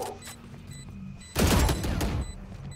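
Gunshots in Valorant, a sudden loud burst of rapid fire that rings out briefly and fades, following a quieter stretch of game ambience.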